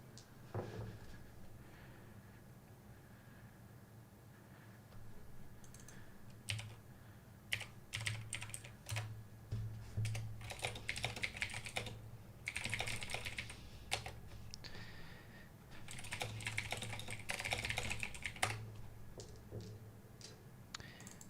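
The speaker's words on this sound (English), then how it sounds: "There's probably just dead silence and then a little bit of me typing there" A computer keyboard clatters with scattered bursts of quiet keystrokes over a low background hum. Typing comes in irregular clusters and grows busier toward the end, with no voices.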